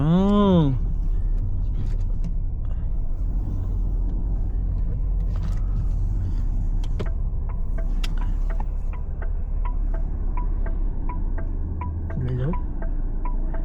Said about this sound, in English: there's a lot of traffic coming and our U-turn is just up ahead